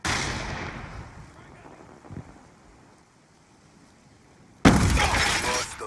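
A concussion grenade goes off in Call of Duty: Black Ops II, a sudden loud, sharp burst near the end that stays harsh and sustained after a quieter stretch of game ambience.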